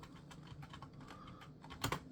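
Soft clicking of computer keys typed in a short, quiet burst, with faint room noise and one louder clack near the end.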